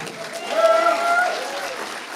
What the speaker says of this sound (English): Let's give this man a round of applause.